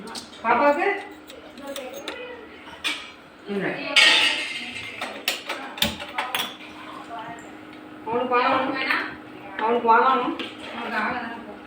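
A metal spoon scrapes and clinks against a pot of mutton gravy in irregular bursts, with a person talking over much of it.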